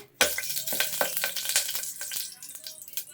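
Ginger-garlic paste frying in hot oil inside a pressure cooker for egg biryani, a steady close sizzle with scattered crackles and spattering pops running throughout once it starts.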